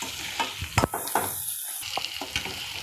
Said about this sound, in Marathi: अगदी 2 ते 3 मिनटं आपण मध्यम आचेवर परतून घेऊया